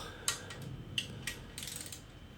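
Short ratcheting clicks from a torque wrench tightening main bearing bolts on a Honda D16 engine during a rebuild, with several separate bursts spaced across the moment, close and moderately quiet.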